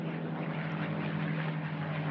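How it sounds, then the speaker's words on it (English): A Bell P-63 King Cobra piston propeller plane at an unlimited air race, a steady, moderately faint engine drone with a strong low hum that holds evenly throughout. "will be Pat Nightingale flying Pretty Polly, which incidentally is one of the rare Bell P-63 King Cobras."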